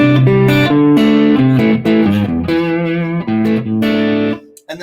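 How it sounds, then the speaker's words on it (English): Guitar played through a rotary speaker simulator pedal on a live pedalboard, sustained chords and single notes swirling with a warbling, Doppler-like wobble, loud and close with no talking. "There's lots of things that'll give you a rotary speaker simulator."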